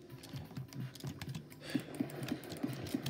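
Keys clacking on a computer keyboard during a Stickman fight game session, with steady close taps and a run of sharper, evenly spaced strokes in the second half.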